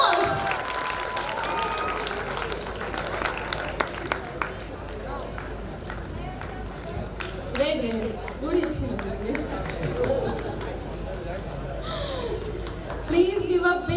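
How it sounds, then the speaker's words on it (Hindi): Applause and crowd noise for the second runner-up at the Ayodhya Talent Hunt awards, a dense, steady clatter of clapping sustained throughout at moderate loudness, with scattered voices in the hall. "Please give a big round of applause again."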